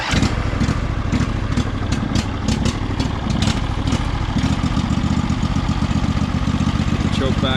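An old Craftsman lawn tractor engine starts and settles into a steady, loud, close chugging idle with rapid mechanical clatter that continues throughout.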